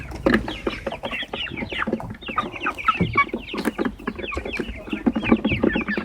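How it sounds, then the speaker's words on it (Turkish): A young rooster crows repeatedly, with clucking hens around it, close and loud. "Ha, bu horozmuş."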